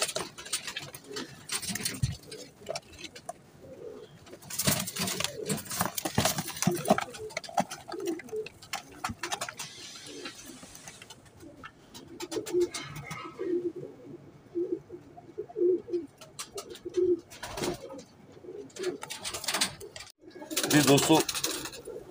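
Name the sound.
royal teddy pigeons cooing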